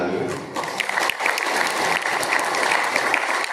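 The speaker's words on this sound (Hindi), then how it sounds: "उनके लिए भी तालियां।" Applause fills a church during a Maundy Thursday Mass, a dense, steady round of clapping from the congregation lasting the full few seconds, close and fairly loud.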